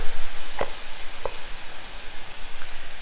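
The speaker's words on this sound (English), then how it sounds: "But let's just stir fry this a bit." Kimchi fried rice with gochujang being stir-fried in a pan, a steady close sizzle with a couple of sharp scraping taps from the utensil, no talking.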